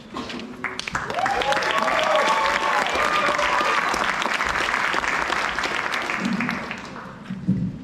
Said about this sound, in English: you guys can continue clapping for like the next 10 to 15 minutes.